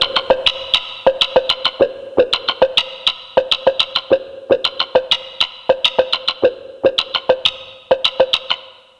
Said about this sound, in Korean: 이번에는 이 뮤트 기타에 이펙터를 건 사운드를 한번 들려드리겠습니다